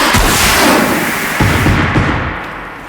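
Gunfire in the video game Horizon Zero Dawn, a dense run of booming, thumping shots that keeps up steadily throughout at close, loud level before easing slightly at the end.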